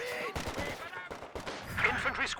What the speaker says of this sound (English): A few volleys from the squad infantry sections but they didn't actually do any damage.